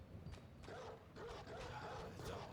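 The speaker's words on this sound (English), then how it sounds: "Dogs." Dogs from Bloodborne barking and yelping in quick, irregular bursts, faint and low in the mix, with no speech over them.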